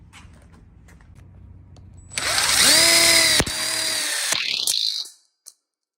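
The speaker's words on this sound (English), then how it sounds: "And now he'll go ahead and screw in." A power drill drives a screw into a welded split bar counter kit for an outdoor kitchen, giving one loud, close whir that rises in pitch, runs steadily for about three seconds, then stops with a brief click.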